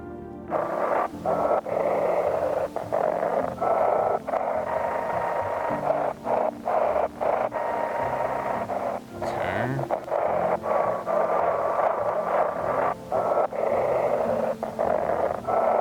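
A radio plays continuously in the video game No I'm Not a Human, a steady broadcast hum with tonal content broken by short rhythmic gaps and dips.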